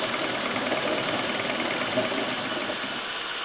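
A 1965 Mamod TE1 toy steam engine runs on a Meccano rolling road with its exhaust throttled, giving a steady, close, unbroken hiss and rush that holds even throughout and eases slightly near the end.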